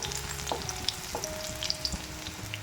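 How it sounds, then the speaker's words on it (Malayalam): Finely chopped shallots (small onions) sauté in hot oil in a pan for a Kerala-style ginger curd dish, giving a continuous close sizzle and crackle with light stirring taps. No one talks. "ചെറിയുള്ളി ചെറുതായിട്ട് അരിഞ്ഞത് ചേർത്ത് കൊടുക്കാം. നന്നായിട്ട് വഴറ്റിയെടുക്കും."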